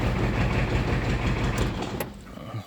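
An Opel Kadett engine running just after its ignition lock was replaced, a steady low idling rumble with a mechanical clatter that fades toward the end, with no talk over it.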